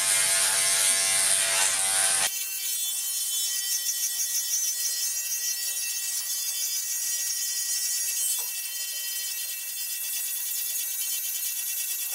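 An electric hair clipper set to a 1.5 guard buzzes loudly close by as it shaves a head for a fade, first with a dense rasping burst, then a steady high whine that continues alone.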